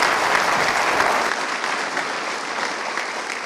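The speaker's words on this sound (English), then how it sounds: "Let's give him a great round of applause." An audience at a healthcare conference talk claps in a dense, steady burst of applause that holds for several seconds and eases slightly toward the end.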